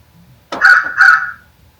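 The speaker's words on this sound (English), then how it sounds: "And your crow." Rivian electric vehicle's crow lock chime, a synthesized crow caw played as two loud, close, rasping calls in quick succession against a quiet background.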